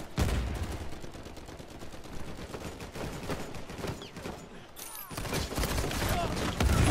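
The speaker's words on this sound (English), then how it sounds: "he's got a nade launcher too" Gunfire and grenade launcher blasts in the game Uncharted 4: dense rapid bursts of shots and heavier thumps over about seven seconds, briefly easing before loud firing resumes, with a voice faintly underneath.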